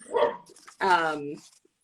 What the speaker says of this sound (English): I've got a pup in the background that's barking